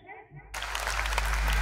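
Applause from an audience at a Hindi kavi sammelan poetry recital bursts in abruptly after a quiet, speech-like moment and swells into loud, sustained clapping.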